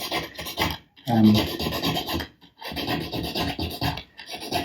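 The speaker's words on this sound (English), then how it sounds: "what I'm doing is just rounding off those flat edges of the arch shape with this concave file" Concave file rasping across the edges of guitar frets during a Fender MIJ Telecaster re-fret, loud repeated strokes in steady bursts with brief pauses between them.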